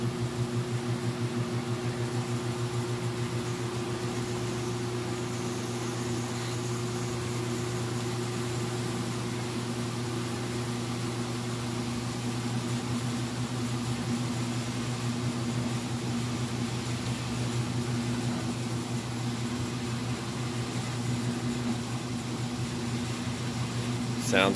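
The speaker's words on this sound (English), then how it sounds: "Firing up that spin now." A Frigidaire washer in a stacked set spins at high speed, giving a steady, even motor whine and hum with a whooshing drum that holds level for the whole stretch, close by and without talk.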